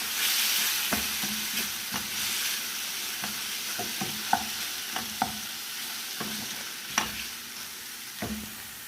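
Tuna frying in a pan with tomato paste, coriander and Arab spices, stirred steadily under a constant sizzle, with repeated close spoon scrapes and taps against the pan and no voices.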